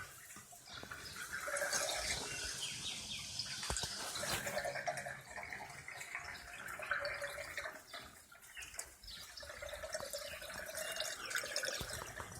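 Old water pushing out through a valve from a backyard crawfish trap tank, a continuous faint trickle and splash with scattered drips, steady throughout with no talking.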